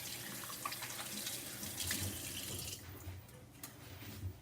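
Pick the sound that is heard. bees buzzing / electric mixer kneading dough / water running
water running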